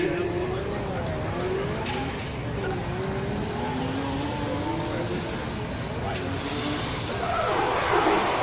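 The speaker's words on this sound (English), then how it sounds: "Chris Wright up next in the twin turbo Nissan 350Z" A twin turbo Nissan 350Z drift car out on a circuit, its engine droning and revving steadily through wavering pitch, with an announcer commentating over it throughout.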